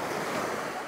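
Sea waves at a pebbly sand beach in Novy Sochi, a soft continuous wash of surf mixed with wind noise, faint and steady with no talking.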